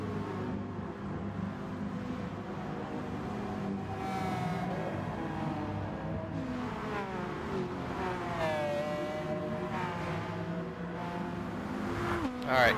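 Race car engine in a racing video game revving steadily, with rising and falling pitch sweeps as it accelerates and shifts, loud and continuous throughout with a sharp burst at the end.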